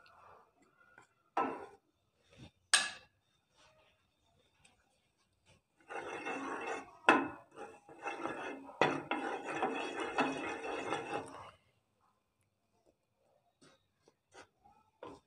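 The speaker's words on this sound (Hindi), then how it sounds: "मैदे और चीनी को 5 मिनट के लिए अच्छा सा भून लेते हैं।" Flour and sugar roasting in ghee in a pan, heard as a dense sizzling scrape with a spoon clattering and stirring against the metal, preceded by a few scattered knocks and clicks.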